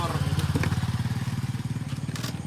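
A motorcycle engine running close by, a loud, rapid, even putter with a pulsing low thrum throughout, with faint background sounds.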